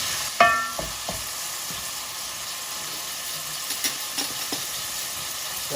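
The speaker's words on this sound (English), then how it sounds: "So let's get that lamb in there. Right, give that a stir." Lamb pieces for a railway lamb curry sizzle steadily in a hot pan while being stirred, with a sharp clatter as the meat goes in and a few light scraping knocks, no voices.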